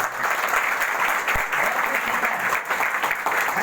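Loud, dense applause from a seated audience honouring the chief guest at a business motivational gathering, continuous clapping close by for the whole stretch.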